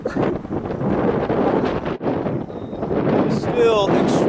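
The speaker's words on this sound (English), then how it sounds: "Still extremely windy right now" Strong, gusty wind buffets the microphone outdoors with a continuous rough roar and rustle, fairly loud throughout, with a brief lull midway and faint chirping sounds near the end.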